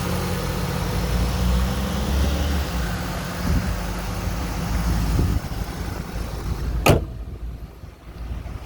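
A 2002 Ford Thunderbird engine idles steadily nearby, a low even hum broken by a brief sharp click near the end.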